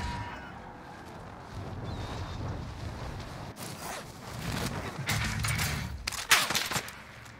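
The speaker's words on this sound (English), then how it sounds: "Sounds like you have an FFAR." Assault rifle fire from an FFAR in Call of Duty Warzone, scattered bursts of shots crackling over a busy rumbling game backdrop, growing louder and denser toward the end.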